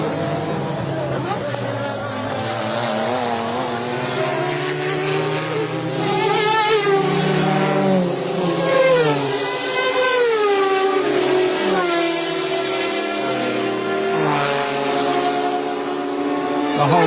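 Late-1990s-style prototype racers at the 1993 Le Mans 24 Hours, including a Peugeot 905 and Toyota TS010, roar past in a group over a crest toward the Mulsanne straight, loud sustained engine drone with rising and falling pitch beneath a commentator's voice.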